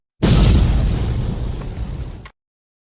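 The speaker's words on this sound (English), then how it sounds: "I said drop a bomb" A loud, booming bomb explosion in a video game, bursting at once and rumbling on for about two seconds before cutting off abruptly.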